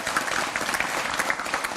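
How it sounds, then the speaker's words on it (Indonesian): Steady applause from a talk show studio audience, many hands clapping in a dense, even wash for the whole stretch, with no voices over it. "tepuk tangan untuk semua narasumber saya pada malam hari ini"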